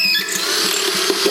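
A power drill whirs loudly and steadily, its high motor whine pulsing with a rhythmic grinding beat.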